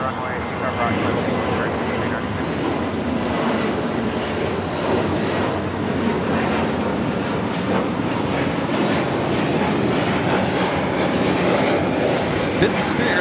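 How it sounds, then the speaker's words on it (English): Spirit Airlines A320neo jet taking off from Los Angeles airport, a loud sustained roar of engines, with speech present in the background. "This is Spirit Airlines 468 taking off to San Jose, California on the A320neo."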